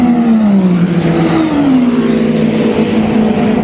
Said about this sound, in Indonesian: Porsche bunyinya seperti ada metalik melengking.